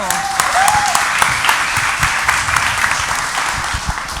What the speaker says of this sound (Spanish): Excelente, un aplauso.